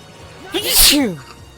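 A single person's sneeze, a quick sharp burst with a breathy rising and falling tone, close and fairly loud, lasting about a second.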